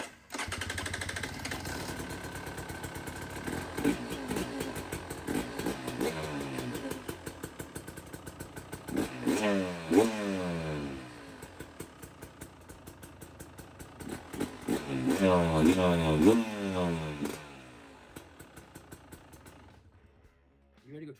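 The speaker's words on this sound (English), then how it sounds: "We're gonna let it idle a little bit more just here for a second." A KTM 300 XC-W two-stroke dirt bike idles with a steady, fast-pulsing putter, fairly quiet and close, with a few blips of revving that rise and fall before the engine settles and cuts out.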